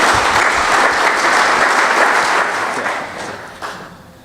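An audience gives sustained, dense applause after a lecture at the 40th anniversary of Lago Martiánez, loud at first and gradually fading toward the end.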